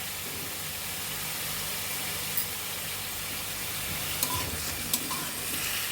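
Vegetables with green chili and turmeric fry in a pan for a shrimp and stalk curry, making a constant close sizzle with a few faint spoon clicks toward the end.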